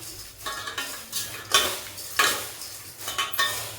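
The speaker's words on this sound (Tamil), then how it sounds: "இப்போ எல்லாத்தையும் நல்லா கலந்து விட்டுருவோம் கைப்படாமல்" Homemade Diwali mixture snack being tossed in a bowl without hands, giving soft scraping stirs with several crisp clinking bursts as the pieces tumble, close and fairly quiet.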